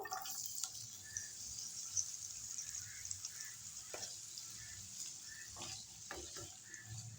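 Potatoes dropped into hot oil in a pan crackle and sizzle steadily, with light stirring clatters and scattered pops, close and fairly quiet.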